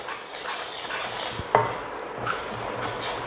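Grated coconut and cardamom frying in oil for a Chettinad ukkara sweet, stirred with a utensil: soft, steady scraping and light sizzling, with one sharper clink partway through and no voices.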